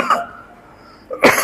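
A man coughs twice, close and sharp, with a short quiet gap between the two coughs.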